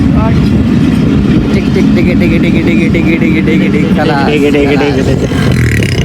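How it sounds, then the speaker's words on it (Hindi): Economy class passenger train arriving at Dadu railway station, a loud close rumble with wheel clatter and squealing tones, with people talking over it the whole time. "ये दादू रेलवे स्टेशन पे जा रही है। ये दादू पहुंच चुकी है।"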